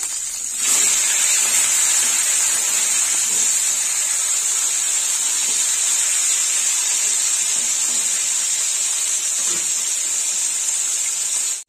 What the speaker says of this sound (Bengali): মাছের মাথাগুলো এবার উল্টে দেবো।